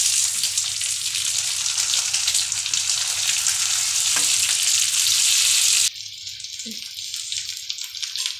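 Okra frying with leftover masala in a pan gives a constant close, dense sizzle that drops abruptly to a quieter hiss partway through, with a faint clink near the end.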